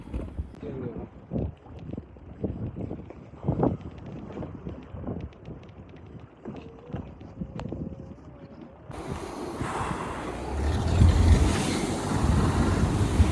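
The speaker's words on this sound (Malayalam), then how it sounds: "ഭയങ്കര കാറ്റാണ്" Strong wind buffets the microphone and surf washes around a boat at sea during a scuba diving trip, with intermittent talk over it, and the wind and wave noise grows louder and denser in the later part.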